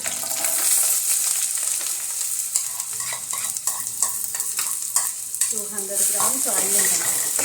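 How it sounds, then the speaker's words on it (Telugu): Onions, curry leaves and prawns fry in a pan with a continuous sizzle and crackle, plus intermittent stirring scrapes and a few brief pops, close and fairly loud with no talking. "దీనికి బాగా ఫ్రై అవ్వనివ్వడం."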